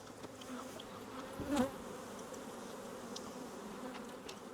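Bees buzz around an open, aggressive hive during queen-cell work, a soft steady drone with one closer bee swelling past briefly, faint overall with no talking.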